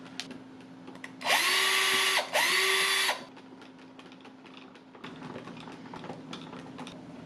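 A power drill drives screws to fix guitar tuners onto a Telecaster neck, giving two loud, close whirring bursts of about a second each with a short pause between, then faint handling noise.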